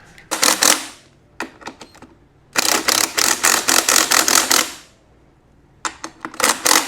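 Tightening the muffler on a Yamaha YFZ450 quad: rapid ratchet wrench clicking in several bursts, one long run of steady clicks in the middle, loud and close with no talking.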